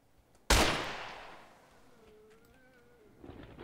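A single sharp, loud gunshot in GTA San Andreas rings out and decays slowly, followed by quiet game sounds and a faint tone.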